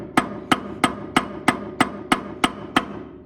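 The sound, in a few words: hammer tapping on seized Ford 8N tractor shaft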